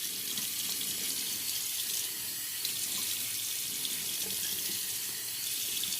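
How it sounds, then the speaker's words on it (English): Water runs steadily from a tap into a sink as a face is rinsed after a shave, a soft continuous splashing hiss with no voices. "So let's rinse off the face."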